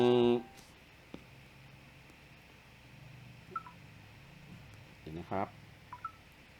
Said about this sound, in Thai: ลืมปิดเสียงโทรศัพท์